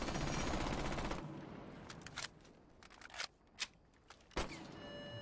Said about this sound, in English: Click RT on the gun. The gun kicks up left and to right.